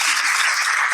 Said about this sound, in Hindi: सबसे पहले इनकी मम्मी के लिए जोरदार तालियां।